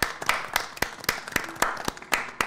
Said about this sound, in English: let's get a round of applause for it